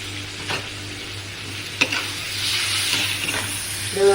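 Chopped tomato and onion sautéing in a pan for a potato gravy, a close, steady sizzle with a few sharp stirring scrapes and clinks, no talk.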